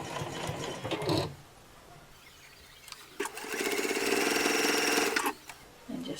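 A sewing machine stitches down one side of a fabric bottle carrier in two bursts, a short whirring run at the start and a longer, steady rattling run later, with quiet handling between.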